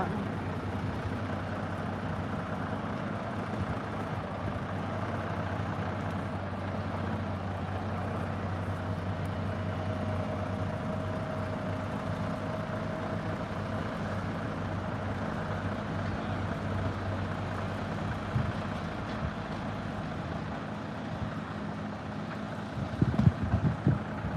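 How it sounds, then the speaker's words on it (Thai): A convoy of road construction machines, including a road roller, grader, tractor and sweeper, works on a road abroad. Their engines give a steady, continuous low rumble throughout, with a brief louder surge near the end. "รถบดรถเกตรถไถรถกวาด มาเป็นขบวนเลย"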